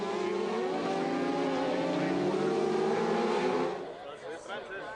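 600cc racing motorbikes scream past at the Ulster Grand Prix road race, a loud rising engine whine that holds then fades away as they pass, with a commentator talking over it.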